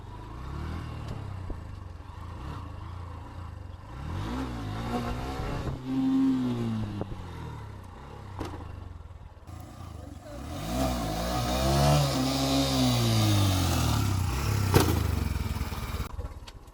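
A motorcycle engine revs repeatedly during wheelie and stoppie attempts outdoors, rising and falling in several loud swells, near and then passing, with people talking intermittently.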